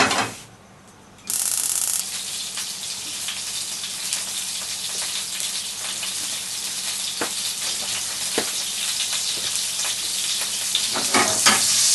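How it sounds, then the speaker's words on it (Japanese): Soup ingredients fry in lard in a pan, a loud, close, continuous sizzle and crackle with occasional sharper pops and scraping stirs, starting after a brief quieter moment. "じゃあこれをラード敷いて炒めていきます。"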